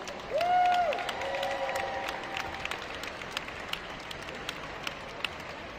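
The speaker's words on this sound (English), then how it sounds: "Big round of applause for our elite males." A crowd at a fitness competition awards ceremony claps and cheers for the winners, a steady spread of applause at medium distance that carries on after a brief loud whistle.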